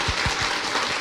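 Audience applause at a Korean political lecture or talk show, a short burst of clapping with dense broadband texture and a few low thumps, steady and moderately loud.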